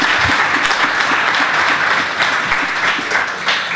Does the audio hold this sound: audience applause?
yes